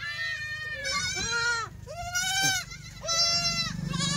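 Kathiawari goat kids bleat up close, about three loud, wavering cries in quick succession over a low rumble of farm background noise.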